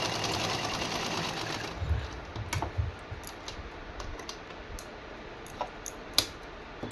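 A sewing machine stitches a suit, running in short bursts of rapid mechanical ticking with sharp clicks and pauses between runs, close and fairly quiet with no talking.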